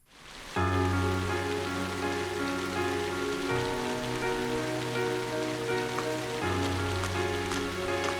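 Steady rain pours in the video game Trails of Cold Steel, a constant soft patter layered over a looping musical tone, beginning abruptly after a brief quiet start and continuing evenly without speech.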